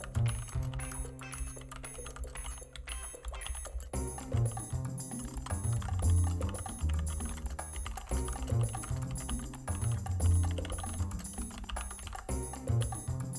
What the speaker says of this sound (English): To start typing, click anywhere in the document and begin using your keyboard.